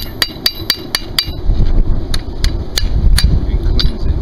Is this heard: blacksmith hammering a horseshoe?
yes